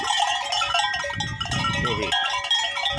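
Goats on a farm in the Brazilian caatinga bleat and wavering calls rise in the middle, with a cowbell-like clanking and bright tonal background throughout.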